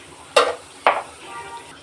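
Garlic frying in a pan for a dried fish curry as cumin is added: two sharp bursts of sizzle with a scrape of a utensil against the pan, close and moderately loud, fading between hits, with no talk.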